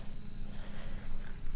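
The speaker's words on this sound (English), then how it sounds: "There's crickets everywhere." Crickets chirping densely in grassland at Theodore Roosevelt National Park South Unit, a continuous close buzzing trill that fills the short moment with no talk.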